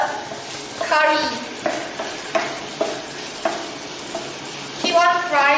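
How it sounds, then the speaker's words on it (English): Seasoned potatoes with curry fry in a pan as a steady sizzle runs underneath, broken by regular scraping stirs every second or so from a spatula against the pan, close and clear. "Add the seasoned potatoes to the pan and fry for a few minutes to combine the flavors."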